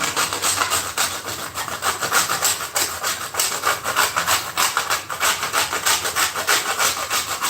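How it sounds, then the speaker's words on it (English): A whole nutmeg rasped against an old hand grater in quick, even back-and-forth strokes, a close, rhythmic scratchy grinding that continues without pause. "What I'm gonna do next is get my grater to grate the nutmegs."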